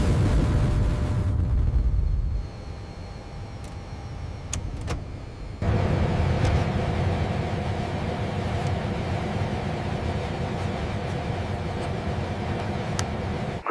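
The right jet engine of an F-117 Nighthawk starting up, a loud broadband roar that dips and then swells into a steady whining rumble with a faint high tone running on top.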